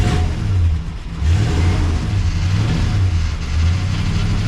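A 1958 Packard engine with a tired accelerator pump runs steadily and loud, its low throb swelling and easing in a few slow revs, with no talking.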